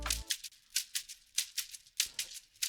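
Several shakers layered together in an Afrobeat groove, with a brisk series of bright, airy swishes in an even rhythm, wide and clear, following a short low thump at the start.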